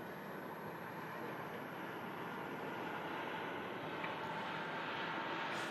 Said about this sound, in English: The Emirates A380 just rolling out down the end of the runway. Going to vacate and taxi right in front of us here at the runway visitor park.